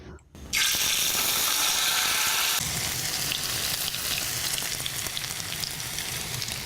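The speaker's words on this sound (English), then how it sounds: "Heat up the oil, and while it's hot and the fish is ready to go, I'm going to add the fish." Mackerel fillets hitting hot oil on a grill, a sudden loud, steady crackling sizzle that starts after a brief quiet moment and keeps going, dense and close.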